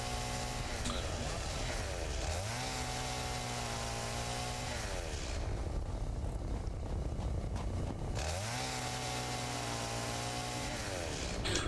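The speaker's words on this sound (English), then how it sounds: "I don't know how I'm getting limestone with my chainsaw" A chainsaw cuts limestone in the factory-building game Satisfactory, a loud sustained motor whine that revs up, holds, drops away, and revs again in repeated bursts.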